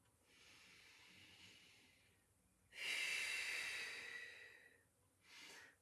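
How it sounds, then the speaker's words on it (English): Slow, controlled breaths during a Pilates exercise: a soft airy inhale, then a louder, longer breathy exhale, and a brief final puff, close and without talk. "I'm just breathing in and I'm breathing out"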